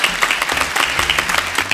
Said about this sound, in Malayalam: ഇത് പിന്നിൽ പ്രവർത്തിച്ച എല്ലാവർക്കും ഒരു വലിയ കൈയടി